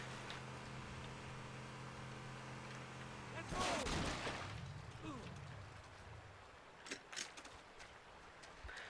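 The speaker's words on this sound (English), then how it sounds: "I have the music off, so you'll just hear the firefight and the sound of my voice" Firefight gunfire in Halo Custom Edition, with a sharp broadband burst near the middle over a steady engine-like drone and scattered later shots, moderately loud with no music.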